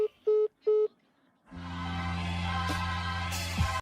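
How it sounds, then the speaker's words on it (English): Three short telephone dialing tones beep in quick succession, followed by a pause and then a steady, faint ringing or line tone with a low hum. "I'm ringing the number again"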